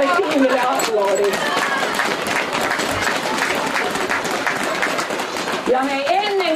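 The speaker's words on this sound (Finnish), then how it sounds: "annetaan meille kaikille ihanalle tiimille aplodit" A festive crowd gives sustained applause for the event team at the Lahti Christmas opening 2022, the clapping dense and steady throughout with voices and cheers rising over it.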